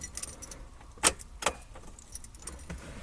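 Keys jangle and click twice in quick succession as a Mazda Miata's ignition switch is turned, a close metallic rattle over a quiet background with a faint car hum.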